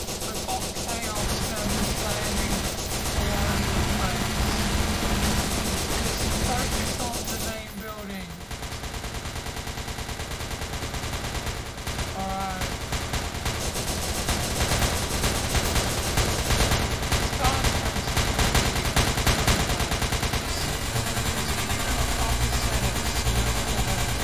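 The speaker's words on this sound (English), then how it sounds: "they immediately opened fire on me" Guards in an SCP video game open fire in dense, rapid bursts of gunfire that run almost continuously, with one brief lull and voices mixed in underneath.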